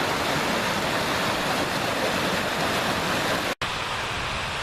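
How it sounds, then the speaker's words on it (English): A waterfall on the Helvellyn walk in the Lake District rushes steadily, a dense, loud, even roar of falling water heard close with no other sounds, cut by one brief dropout near the end. "Beautiful waterfall there I'm just looking at."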